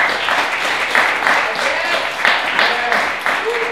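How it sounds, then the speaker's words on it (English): An audience at a spoken word poetry event applauds a performer coming to the stage, steady crowd clapping with a few sharper accents, while voices call out and talk beneath it. "So let's give her a round of applause."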